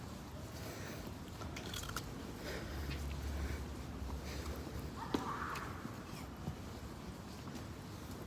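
Faint biting and chewing of a Ttaom watermelon ice pop bar, with soft crunchy bites scattered through a steady low background hiss and no talking.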